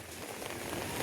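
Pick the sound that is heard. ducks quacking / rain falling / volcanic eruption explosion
rain falling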